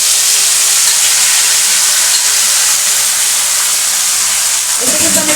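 Marinated prawns fry in a hot pan with a loud, steady, close sizzle and hiss that carries on alone throughout.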